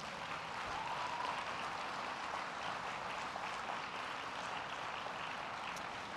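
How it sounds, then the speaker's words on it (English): Audience applause for a group of leadership awardees at an arts-themed lunch plenary, a steady, fairly quiet wash of many hands clapping that lasts the whole stretch with no talk over it. "Can you do a round of applause for all of them?"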